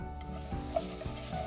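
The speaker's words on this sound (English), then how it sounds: "Teaspoon of cumin seeds, and once they sizzle, I'm going to throw in 3 garlic cloves grated." Cumin seeds and grated garlic sizzle in a pan of hot fat, a soft steady crackle with faint stirring clinks, no talking.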